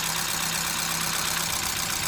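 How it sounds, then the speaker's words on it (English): A car engine with an unplugged ignition coil idles roughly from close by, giving a continuous low, uneven rumble with no one talking. "you can see the engine just starts shaking."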